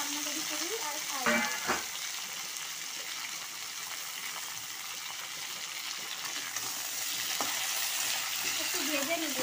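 Mixed ingredients fry together in a pan with a steady, moderate sizzle, broken early by a couple of brief utensil clatters and a short burst of voice.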